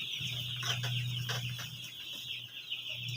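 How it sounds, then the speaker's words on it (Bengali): A flock of chickens on a poultry farm clucks and murmurs softly and continuously, with a steady low electrical hum running underneath and no talking. "মুরগিগুলো পানি খাবার দাবার সব কিছুই খাচ্ছে"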